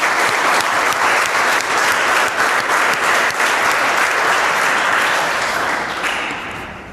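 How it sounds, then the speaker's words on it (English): A classroom of students applauds a classmate at Sunrise Public School, Bhalsi, with steady, loud group clapping that holds throughout before tapering off at the end. "Please clap for Swati."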